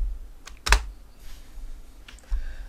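A computer keyboard is typed on, a few sharp isolated key clicks with gaps between them, close and clear in a quiet room.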